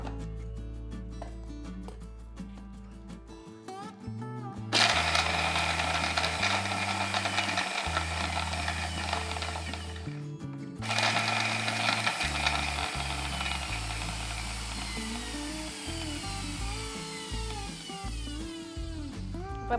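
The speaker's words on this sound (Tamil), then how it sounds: "அப்புறம் இந்த கட் பண்ணி வச்சிருக்கிற ஆப்பிள், இது முதல்ல ஒரு ரவுண்ட் அடிச்சிடலாம்." Mixer grinder pulsing chopped apple for a smoothie: loud bursts of whirring motor separated by brief pauses, with a mechanical ratcheting quality as the blades spin up and stop, no voices.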